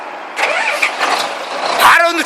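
A Hyundai 25-ton truck engine cranks and fires up near the end, rising loudly into a running rumble after people talk over the quiet moments beforehand.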